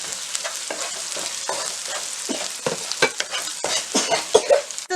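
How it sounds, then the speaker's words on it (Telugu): Ginger garlic paste with chili powder, coriander powder, garam masala and turmeric frying in a pan, a loud close sizzle broken by repeated spoon stirs and scrapes. "ఒక 2 స్పూన్స్ అల్లం వెల్లుల్లి పేస్ట్ వేసుకొని ఫ్రై చేసుకోవాలి."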